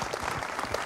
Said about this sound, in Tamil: அதான் கைத்தட்டு வருது